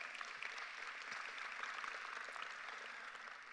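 Applause at a 2022 high school graduation ceremony for Riviera Beach Preparatory and Achievement Academy, a faint, distant wash of steady clapping from the crowd.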